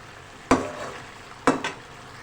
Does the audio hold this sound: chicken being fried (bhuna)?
yes